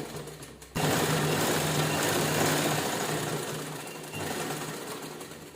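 Sewing machine running steadily while stitching old-shirt fabric into a kitchen apron, a close, continuous whirring hum that starts abruptly after a brief quiet moment and holds with a slight dip near the end.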